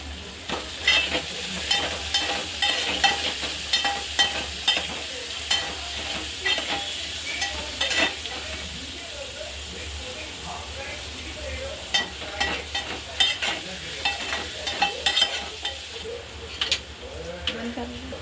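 Garlic and curry leaves sizzle and crackle in a hot pan while a spoon stirs and scrapes, with steady frying hiss and frequent sharp clinks close by.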